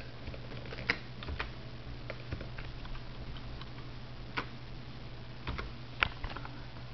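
Quiet typing on a computer keyboard gives scattered single key clicks and short bursts at irregular intervals over faint steady room hum, with no one talking.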